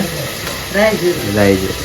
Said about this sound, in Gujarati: આપણે વઘાર કરી નાખ્યો છે હિંગ ને